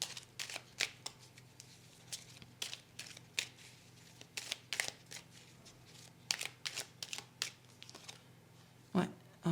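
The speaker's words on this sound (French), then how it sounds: "On va recouvrir ces deux cartes-là." Tarot cards are handled and laid down on a table in a run of crisp, close card snaps and slides that arrive in short irregular bursts. Quiet speech is heard faintly beneath them.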